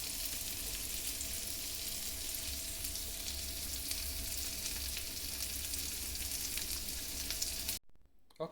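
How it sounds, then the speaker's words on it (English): Guanciale frying in a pan for carbonara, a steady bright sizzle with light crackling that runs evenly and close, then cuts off abruptly near the end. "So the guanciale is melting, and we just have to wait a little bit until it's ready."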